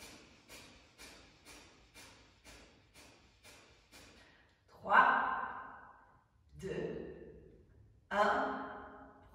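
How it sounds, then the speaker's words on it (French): Slow deep breaths during a guided breathing exercise, first a run of soft rhythmic airy breaths, then three long, louder inhale-exhale swells, close and alone with no talk. "Profonde respiration."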